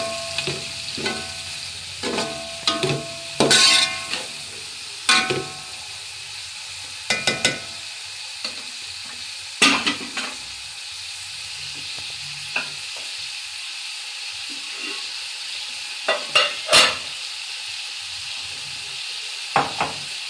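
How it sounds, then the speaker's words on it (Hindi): Vegetables and bell pepper stir-frying in spices for chicken vegetable rice, a steady sizzle under repeated sharp scrapes and clinks of stirring against the pan. "सब चीज़ें मैं भून लूँगी और साथ ही इसके अंदर शिमला मिर्च"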